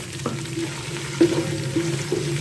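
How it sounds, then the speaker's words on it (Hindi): Sliced onions frying in a pan for a potato and chickpea biryani, a steady soft sizzle with a few brief clinks and scrapes of a utensil, close and without talk. "अब प्याज को हमें अच्छा सा थोड़ा सा ब्राउन करना है, डार्क नहीं करना, हल्का ब्राउन करना है"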